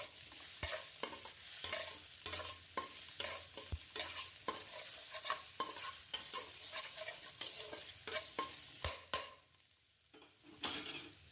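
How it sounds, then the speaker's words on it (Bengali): Ginger and garlic frying in hot oil, a soft sizzle under repeated spatula scrapes and clinks against the pan, the stirring strokes coming in an uneven rhythm before a brief quieter pause. "একটুখানি ভালো করে একটুখানি ভাজা ভাজা হয়ে আসলে"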